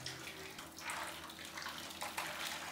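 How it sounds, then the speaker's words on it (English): Hot water pours from a stove pot into a large dish, a steady splashing rush that swells and surges slightly throughout, with no voices. "remove the water from the stove and pour it into your large dish"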